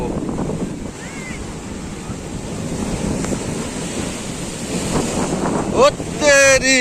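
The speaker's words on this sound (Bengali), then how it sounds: "দেখো জল পুরো লাফালাফি করছে" Rough sea surf during a Kalbaishakhi storm at high tide: a steady, loud roar of surging waves with wind buffeting the microphone, and faint whistling tones near the end.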